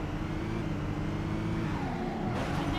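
A car's engine drones steadily as it is driven in Midnight Club II on PS2, a loud continuous hum with a slight pitch rise and a faint swell near the end, with no talk.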